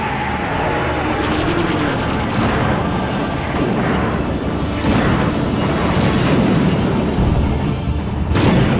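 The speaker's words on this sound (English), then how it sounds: "Don't play with bombs up here, man." Bombs exploding in Twisted Metal 2, set on New York rooftops, giving a continuous loud roar of booming blasts and engine noise with several sharp impacts along the way.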